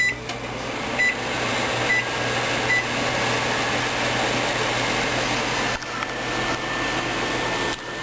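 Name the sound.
microwave oven running, heating oatmeal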